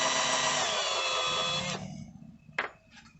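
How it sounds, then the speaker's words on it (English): A power drill fitted with a small bit bores into the wooden leg of a Charter Oak dining chair, whining steadily for nearly two seconds and then stopping. A brief whir follows, close and with no talk. "So we drill this with a small bit and then just keep enlarging with the other bits until we get to a 3/8 diameter."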